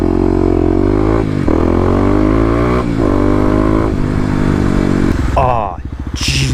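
Kawasaki KLX250 dirt bike with a 13-tooth sprocket revving hard through repeated throttle bursts and gear shifts, loud and close, with a rider talking over the engine.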